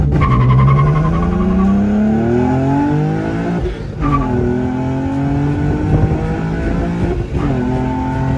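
An Infiniti G35 launches hard in first gear, its loud, close engine revving in a steadily climbing note that briefly dips twice before pulling up again, with no talking over it.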